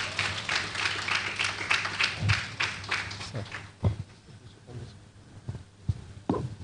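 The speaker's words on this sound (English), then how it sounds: "Clap for yourselves." Graduates at an elder care aides training graduation ceremony clap for themselves, a busy burst of many hands that thins out into scattered individual claps and thumps, with some voices in the room.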